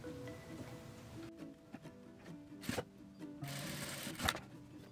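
A sewing machine sewing a straight finishing seam on a fabric strip for a tea-bag holder. It runs in short, quiet bursts separated by pauses, with soft handling noises in between.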